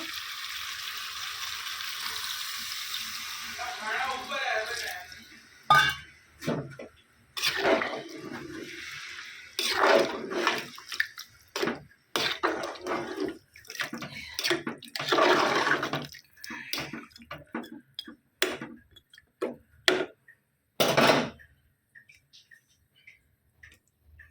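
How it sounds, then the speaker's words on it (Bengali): Water splashes and pours into a pan of chop filling cooking on the stove, followed by a long run of sharp clattering knocks and taps at an uneven pace, loud and close, with no talking. "তো কষা হয়ে এসছে, আমি এবারে জল দিয়ে দেবো। জলটা আনি।"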